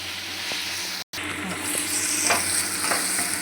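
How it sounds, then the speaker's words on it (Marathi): Tomatoes and onion frying in oil, a steady close sizzle with occasional stirring scrapes and a brief cut of silence near the start. "आता यात आपण टमॅटो घालून घेऊ. टमॅटो पण मस्त असं शिजवून घ्यायचं आपल्याला तेलावरती."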